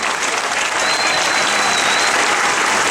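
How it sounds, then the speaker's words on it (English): Dense, steady applause from an audience at a clock dedication ceremony in Ellicott City, Maryland, a full crowd clapping continuously without letup. "Give yourselves a round of applause."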